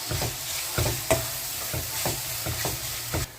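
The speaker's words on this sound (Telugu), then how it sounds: "పచ్చి మసాలా వేసేసి చక్కగా కలుపుకోండి" A spoon scrapes and stirs through sizzling raw masala for mutton curry in a pan, with repeated sharp knocks against the metal over steady frying hiss.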